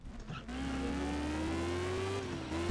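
Car engine droning steadily in the Stunt GP racing video game, a sustained mid-loud motor tone slowly rising in pitch as it accelerates, with no talk.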